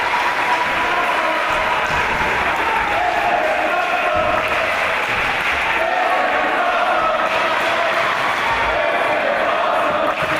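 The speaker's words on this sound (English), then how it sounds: "And he has brought this crowd to its feet." An arena crowd at an EVOLVE professional wrestling title match rises to its feet, a loud, sustained roar of cheering and shouting that holds through the whole stretch.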